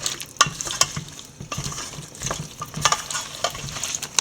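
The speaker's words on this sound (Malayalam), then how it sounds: "ഈ വിനാഗിരിയിൽ തന്നെ കുറച്ച് നേരം തിളയ്ക്കാനായിട്ട് സമയം കൊടുക്കുക" Bitter gourd and carrot pickle boiling in vinegar makes a lively bubbling sizzle close by, with intermittent stirring scrapes and clinks from a spoon in the pan.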